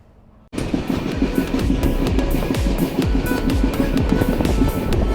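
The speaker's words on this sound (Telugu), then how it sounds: "మాడ్గోన్ రైల్వే స్టేషన్ నుంచి అయితే ట్రైన్ అయితే స్టార్ట్ అయింది." Train rolling out of Madgaon railway station on a Goa to Secunderabad run, starting abruptly after a quiet moment into loud, close rumble with rhythmic clickety-clack of wheels over rail joints, steady throughout.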